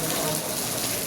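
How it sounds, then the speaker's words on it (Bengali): Steady rain keeps falling without a break, a dense, even wash of hiss that stays loud and unchanging from start to finish. "এখানে তো আমাদের বৃষ্টি থামছেই না"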